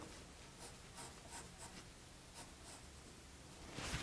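A pencil drawing the narrow side of a table leg on paper, a soft scratchy rhythm of short strokes and rubbing, faint and close, with a louder scrape at the end and no talking.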